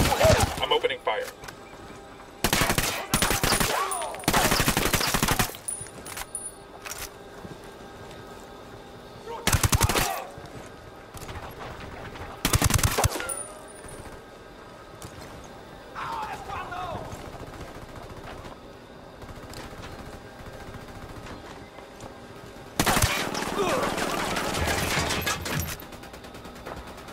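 Gunfire in the game Ghost Recon Wildlands as bursts of automatic fire and sharp shots break out in clusters between quieter stretches, with voices talking in between.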